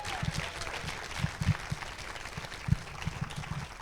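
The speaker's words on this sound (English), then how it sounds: "Just round of applause" Audience at a TEDx event in Tupper Lake clapping, a faint, spread-out patter of hand claps with a few sharper individual claps standing out over a few seconds, heard from some distance.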